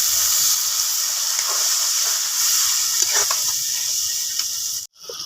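Chilli, turmeric and salt spice paste sizzles and hisses continuously in a frying pan, a loud steady close sizzle with a few faint clinks, cut briefly near the end.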